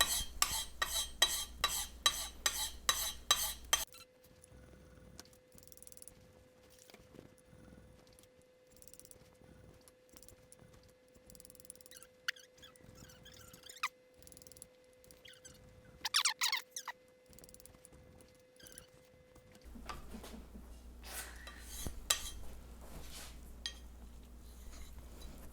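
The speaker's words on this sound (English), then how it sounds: "I'll move on to the extra fine stone." A brand-new steel chisel rasps back and forth on an extra fine diamond sharpening stone in quick rhythmic strokes at the start and end, with a quieter stretch of faint scraping and handling noises in between.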